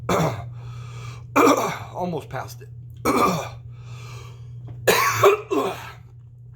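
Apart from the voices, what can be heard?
coughing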